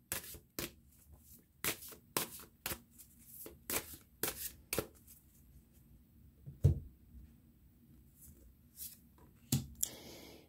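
Tarot cards are shuffled by hand for a reading: quiet, crisp riffles and taps arrive in uneven bursts, with pauses between them, close up in a still room.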